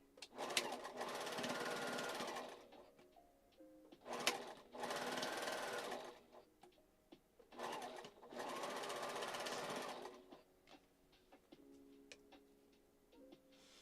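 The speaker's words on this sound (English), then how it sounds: "the sewing machine relaxes. The sound of it is a nice, relaxing sound" A sewing machine runs in several steady bursts of a few seconds each, a fast whirring stitch, with quiet pauses and soft clicks between runs.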